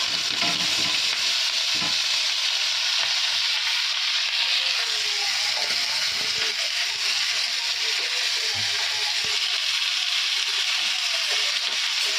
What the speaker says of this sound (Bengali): এটা ভাত ভাজা করব ব্রেকফাস্ট বানাবো